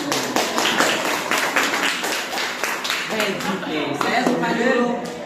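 Hand clapping during a classroom science demonstration of Archimedes' principle, a run of sharp claps up close with people talking over and after them.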